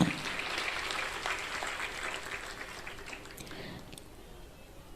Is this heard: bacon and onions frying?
no